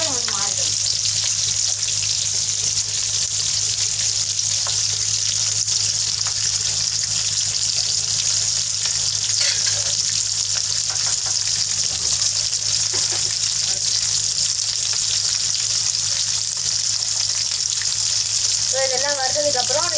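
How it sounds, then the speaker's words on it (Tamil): Capsicum dry-roasting for about a minute in a pan for Tamil capsicum usili, giving a steady, close sizzle and crackle throughout with occasional stirring scrapes. "நல்லா ரோஸ்ட் எல்லாம் ஆக வேண்டாம், சும்மா 1 மினிட் வறுத்தரே போதும்"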